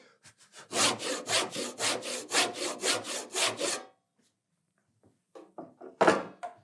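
A hand saw cuts a kerf for a wood joint on a piece held in a vise, about a dozen loud, even rasping strokes in steady rhythm, then a pause with a few soft knocks and one last stroke.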